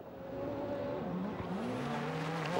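A Peugeot 206 four-wheel-drive World Rally Championship car on a Rally Finland stage, its engine droning steadily and shifting pitch as it accelerates at a moderate distance, alone with no talk.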